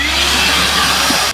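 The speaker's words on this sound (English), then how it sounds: "Two-handed Hoover this is, two hands" A Hoover vacuum cleaner runs steadily and loudly inside a campervan interior, a constant broadband whooshing drone that stops abruptly near the end.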